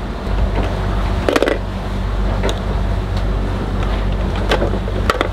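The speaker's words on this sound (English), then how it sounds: "Engines are off and we're sailing already." A sailboat under sail in strong, stormy wind with its engines off: loud, constant wind rush and water noise, broken by a few sharp knocks and creaks.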